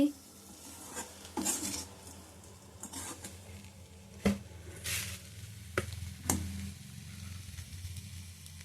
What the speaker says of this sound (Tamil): இப்போ வேக வச்ச முட்டையை அதிலே போட்டு நம்ம கலரிக்கலாம்.